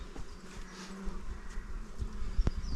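Honeybees hum softly around an open beehive frame, a faint continuous buzz with a few brief knocks and handling sounds, no talk.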